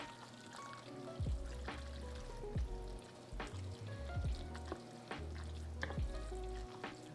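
Cheese being stirred into a pot of American goulash, with sticky scraping and squelching strokes of a spoon repeating every second or so over a low background hum.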